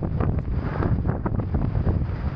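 Strong wind buffeting a microphone on a coastal cycling route from Vanh Thanh to Lang Co, a loud, continuous low rumble with gusty surges and no speech over it.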